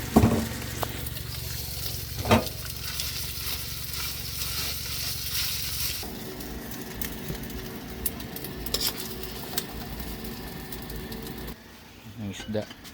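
Garlic and onion fry in a pan, a continuous crackling sizzle that stays steady and close, with voices talking in the background and a quieter stretch near the end.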